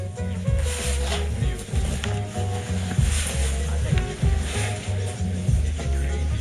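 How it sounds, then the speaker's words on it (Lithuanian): A blender churns torn newspaper with water, giving a loud, continuous pulsing grind with a rhythmic low thumping. "Suplėštą popierių dedam į smulkintuvą."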